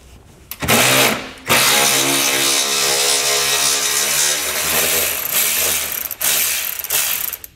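Ratchet spinning off the 15 mm nuts that hold a bump stop on a 2019 Ford, loud and close, with long continuous buzzing runs broken by brief pauses and no talking.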